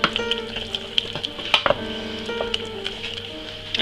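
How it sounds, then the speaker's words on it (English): Onions and mushrooms fry in a pan for a mushroom, onion and garlic sauce, with a steady close sizzle and a few sharp clinks and scrapes of stirring. "we're going to add in our now onions and mushrooms"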